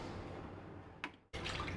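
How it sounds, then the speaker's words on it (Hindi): Water is poured from a cup into an open-mouthed cooking pot, a faint steady splashing stream that cuts off abruptly, then a second burst of pouring follows near the end. "सबसे पहले खुले मुंह के बर्तन में ये 2 कप पानी डालेंगे"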